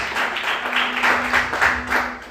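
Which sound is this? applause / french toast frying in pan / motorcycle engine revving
applause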